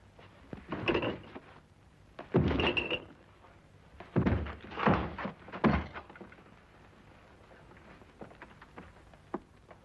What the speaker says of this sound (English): Force the door open.